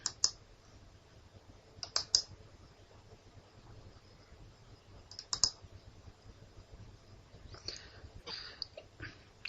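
Several sharp, quiet mouse clicks in small clusters, used to right-click spelling errors in LibreOffice Writer 3.6, tapping against faint background hiss.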